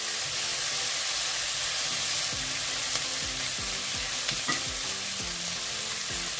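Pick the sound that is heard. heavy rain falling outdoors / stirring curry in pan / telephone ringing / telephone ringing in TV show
stirring curry in pan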